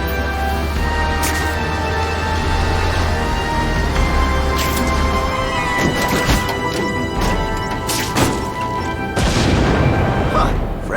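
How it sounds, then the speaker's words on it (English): Fireworks burst over a city in The Amazing Spider-Man video game, a run of booming cracks and crashing explosions piling up over a steady rumbling backdrop, loud and close, with sharp bursts clustering toward the end. "Friendly neighborhood fireworks."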